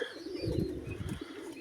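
Pigeons coo in soft, low, throaty rolls close by, a few overlapping murmuring calls over a short stretch with no talking.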